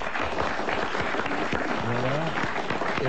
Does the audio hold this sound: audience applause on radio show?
yes